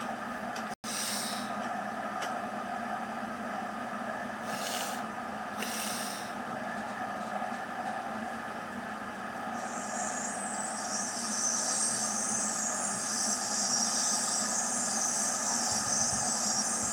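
A train in a simulator game rolling through track switches: a steady low engine drone and rail rumble throughout, a few brief clanks early on, and a high metallic hiss joining in the latter half.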